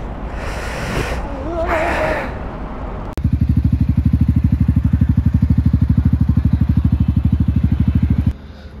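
A group of parked motorcycles on a foggy group ride, including a Mojo and an FZ, idles with a steady rapid thumping beat after a loud start, preceded by brief voices and wind.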